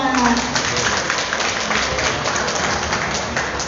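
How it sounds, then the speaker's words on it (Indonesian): Audience at an anti-drug campus event in Indonesia applauding together, a steady dense wash of clapping held at even loudness throughout, with voices mixed in. "Tepuk tangan dulu untuk kita semua"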